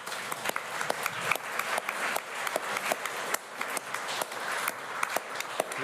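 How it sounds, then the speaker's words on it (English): An audience at a conference day claps to welcome arriving speakers, a steady, dense applause with sharp individual claps standing out and no voices over it. "Keep on clapping, they're downstairs."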